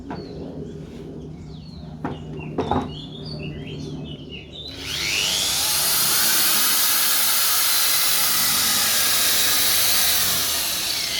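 A budget power drill in non-hammer mode starts up partway through and runs loud and steady to the end, a continuous high whine cutting into hard wood after a few quieter knocks.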